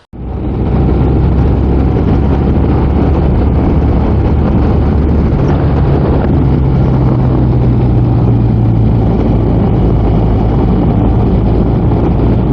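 Motorcycle engine running steadily during a ride, recorded on-bike with a GoPro Hero 7 Black or Insta360 ONE RS: a loud, continuous close drone with heavy wind rush, holding throughout with a slight rise in pitch partway.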